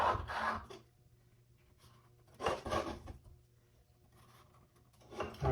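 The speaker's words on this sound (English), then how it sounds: "I'm going to make some marks on the back here for my jigsaw" A pencil scratches marks onto the back panel of a bathroom vanity drawer in two or three short, close scribbling bursts separated by quiet pauses.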